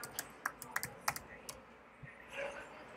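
Quick, light clicks of a computer keyboard being typed on, close and fairly faint, in a short irregular burst followed by a soft rustle.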